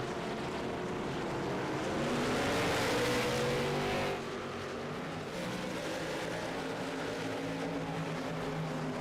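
Late model race cars at North Wilkesboro roar past as the field takes the green flag, a loud pack of engines swelling to a peak around the third second and then holding a steady droning growl.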